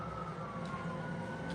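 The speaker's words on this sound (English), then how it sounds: "Probably an ambulance." Ambulance siren wailing somewhere outside, a faint sliding tone over steady background noise, distant and muffled.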